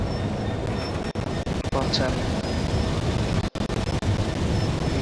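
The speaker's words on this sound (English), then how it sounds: "we've taken the railhead treatment cars through the train wash" A rail head treatment train rolls through a train wash, a steady loud rumble with brief dropouts while someone talks over it.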